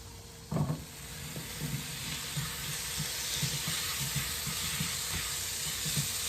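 Steady sizzle of asparagus hitting a hot pan with garlic, thyme and rosemary, a sharp burst at the start easing into continuous close frying hiss with faint stirring knocks, no talking.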